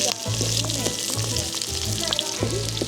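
Tempeh cooking in a pan with a sauce of shallot, garlic, spring onion and chili at a Balinese cooking class in Ubud, a steady close sizzle and bubbling under a low hum, with faint voices in the background.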